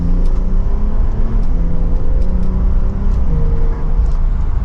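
Porsche 911 Targa 4S with PDK transmission pulling hard from second gear, heard from inside the cabin as a loud, sustained engine drone rising in pitch with a few brief clicks over it.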